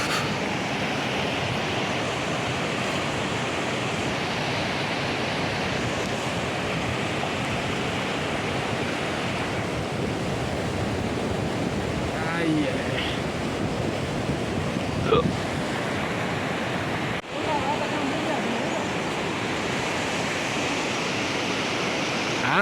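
Water rushing steadily in a village river where brothers are net fishing, a continuous broad roar with wind buffeting the microphone throughout and a couple of faint brief knocks.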